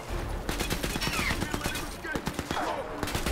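Hostile gunfire cracks through a Crysis 3 firefight in quick repeated bursts with overlapping shots and whizzing effects, loud and constant, with occasional speech faintly mixed in.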